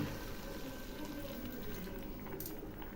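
Water poured into a pan of cooking pumpkin greens gives a steady, even rush of liquid that holds at a constant level for the whole stretch, with no voices.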